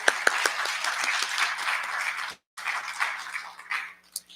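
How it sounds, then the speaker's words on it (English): Applause at a Board of Education public meeting for a student of the month: scattered sharp claps grow into moderate, somewhat distant clapping, cut by a sudden brief silence before resuming and thinning out with a few final claps. "A nice big round of applause for Sophie."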